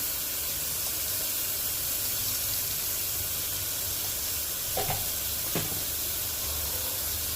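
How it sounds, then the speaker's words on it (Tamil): Onions frying in a pan with sambar powder and turmeric for a coriander kurma curry, a steady broadband sizzle and hiss running throughout with a couple of brief stirring clinks near the end. "ஆட் பண்ணிவிட்டு நல்லா வதக்கி விட்டுக்கோங்க"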